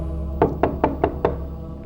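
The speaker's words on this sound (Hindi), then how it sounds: "दरवाजा खोलो" Five sharp knocks on a door in a quick, evenly spaced series, close and loud, with nothing else heard around them.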